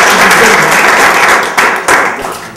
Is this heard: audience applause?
yes